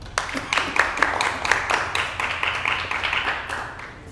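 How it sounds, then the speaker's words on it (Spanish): Hands clap in a brief round of applause from a small audience at a documentary presentation, individual claps distinct and close, tapering off over a few seconds. "Muchas gracias a ustedes y un aplauso."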